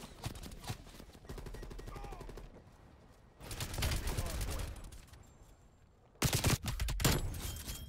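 Bursts of rapid gunfire from an EM2 rifle in a first-person shooter video game, loud and close, coming in several clusters with game sounds and some voice between them.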